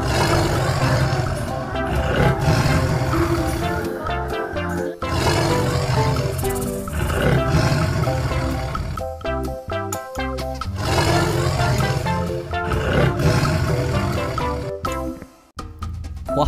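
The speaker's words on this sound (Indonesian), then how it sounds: "ada harimau Sumatera, teman-teman." A Sumatran tiger roars loudly over a dense, busy backdrop of other sounds. The roaring is heavy and sustained across the whole stretch.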